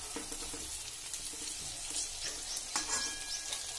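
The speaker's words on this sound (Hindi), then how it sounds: "सभी मसाला बैगन को हमने मसाला भरकर इसमें डाल दिया है ऑयल में" Masala-stuffed eggplants sizzle steadily in hot oil over a fire, a dense crackling frying hiss with occasional soft stirring clinks, close and moderately loud throughout.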